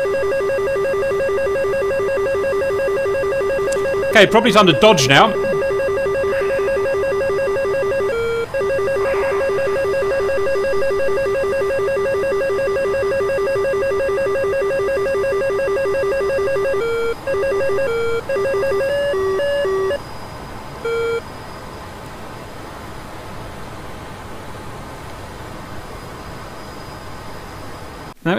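An F-14B Tomcat's AN/ALR-67 radar warning receiver in DCS World tracking an SA-6 threat, emitting steady, loud electronic tones that pulse and shift pitch, with a brief burst of warbling alerts early on; a voice speaks briefly over it.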